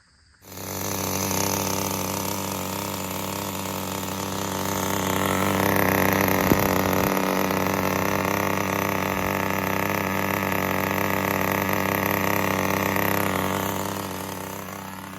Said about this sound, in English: Fired right up. One pull after priming it.